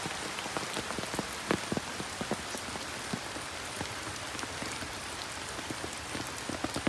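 Rain patters steadily on a hard surface at a pond, dense drops with occasional louder taps, a constant hiss filling the whole time with no voices.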